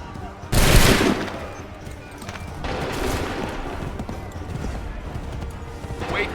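A musket volley in Assassin's Creed 3 Remastered on Xbox One: one loud, massed blast booms out, then a second softer volley follows, over a steady battlefield din with horse hooves and movement.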